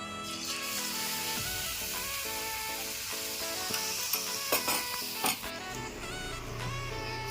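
Semolina pitha batter hits hot oil and sizzles continuously, a bright steady frying hiss over background music with a few louder crackling bursts.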